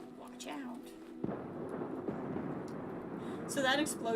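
In the Deathloop video game, an explosion on Blackreef erupts with a sharp crack and then a sustained rumbling roar that swells toward the end, loud and close, with a faint voice beneath it.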